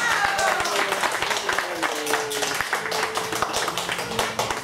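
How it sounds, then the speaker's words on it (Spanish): Guests clap for a man celebrating his 50th birthday, a continuous patter of hand claps from a gathered group, fairly close, with someone talking over it. "Regálame los aplausos para el cumpleañero, por favor."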